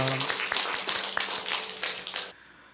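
Church congregation applauding together, a dense burst of clapping with some sharper individual claps, holding strong for about two seconds before cutting off abruptly into quiet.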